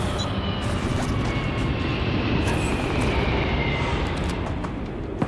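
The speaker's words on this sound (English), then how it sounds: "there also looks to be a ship either taking off or landing in the background" A spaceship taking off or landing in the Starfield game makes a steady, loud, broad roaring rumble that holds throughout without letting up, with no voices over it.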